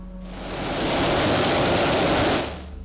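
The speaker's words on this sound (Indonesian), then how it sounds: "Gemericik air yang mengalun pelan" Water babbles gently along a cool, quiet riverbank, a steady close hiss of flowing water that swells in over the first second, holds evenly and fades away near the end.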